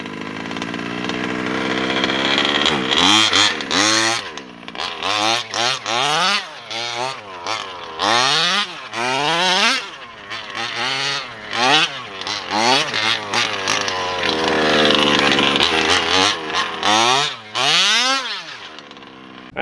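A Losi DBXL 2.0 gas RC car with a Taylor RC engine revs hard in repeated bursts, rising and falling in pitch, bogging a little at low throttle before climbing, loud and close with a buzzing two-stroke tone.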